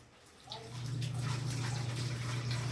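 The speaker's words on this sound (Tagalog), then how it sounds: "Dahan-dahan lang gripo." Water gushes steadily from a tap, starting softly and then running at a constant rush over a low hum.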